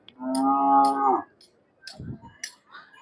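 A single long, loud moo from a Khillar cow lasting about a second at a cattle market, followed by faint shuffling and a few soft scattered noises.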